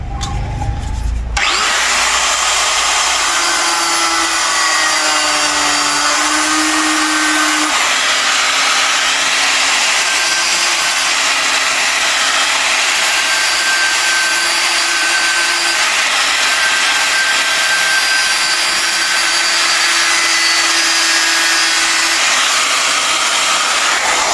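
A power tool cuts a coconut shell to make a small salt container. It whines loudly and steadily for over twenty seconds after a brief start, close up and with no talk.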